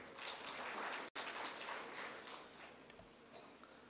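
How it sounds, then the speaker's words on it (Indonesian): Applause from a crowd greets a guest at a city branding launch ceremony for Penajam Paser Utara regency, a dense, fairly faint patter of clapping that fades after a brief cut. "Tepuk tangan dulu buat beliau."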